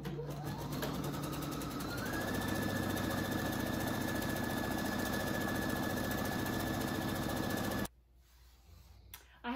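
A sewing machine runs a zigzag stitch close to a fabric edge for a pillowcase dress, a loud, continuous, rhythmic whir for about eight seconds, then stops abruptly, leaving quiet handling sounds.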